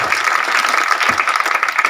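Audience applause at a village gathering honouring local talent, a dense, steady burst of clapping from many hands that fills the whole two seconds at close range.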